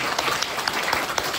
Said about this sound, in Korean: 큰 박수로 한번 확인했으면 좋겠습니다